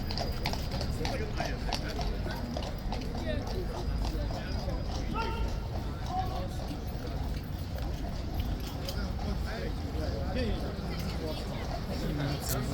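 A King's Guard trooper's horse clip-clops at Horse Guards, steady hoof strikes on hard ground mixed into a busy outdoor crowd with people talking nearby.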